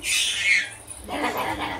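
A peacock lets out a harsh, high squawking call at close range for about a second, followed by a rougher, lower cry, with no other sounds around it.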